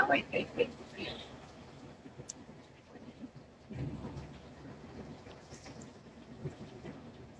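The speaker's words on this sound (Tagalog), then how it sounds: "Sobrang lakas ng ulan, Huda" Heavy rain pours down in a steady hiss with a low rumble of thunder rolling in partway through, heard indoors at moderate level with a few louder bumps near the start.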